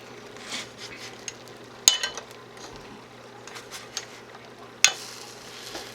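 An egg fries in a hot egg ring with a soft, steady sizzle, broken by a couple of sharp metallic clinks and light scraping from the pan, fairly quiet overall.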